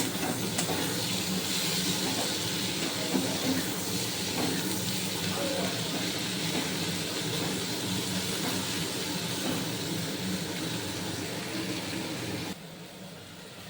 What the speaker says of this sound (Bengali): এখানে কুঁদরি ভাজা হচ্ছে।